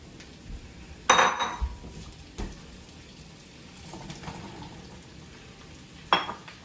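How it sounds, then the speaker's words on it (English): Squash being added to a cooking pan in a home kitchen, a few clattering knocks and thuds of pieces dropping and a utensil hitting the pan, with quiet gaps between. "First, I'm gonna add the squash."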